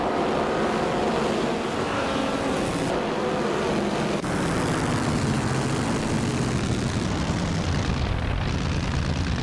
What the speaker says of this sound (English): zooming along in a classic 1938 Mercedes-Benz W154